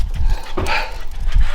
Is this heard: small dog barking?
yes